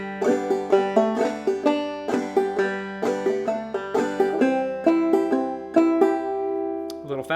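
A clawhammer banjo plays the opening phrase of the old-time fiddle tune June Apple, bright plucked notes with a steady frum-ring rhythm and a ringing drone string, close and alone for several seconds.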